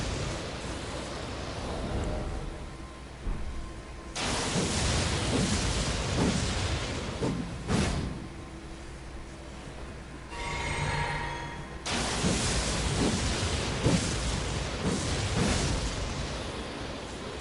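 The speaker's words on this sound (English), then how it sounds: "This is the Stormahawk Axe. Its weapon art is Thunderstorm." Stormhawk Axe's Thunderstorm weapon art in Elden Ring: loud, rumbling blasts of game effects that swell in several bursts over a continuous low roar, with crackling bright flashes between the heavier booms.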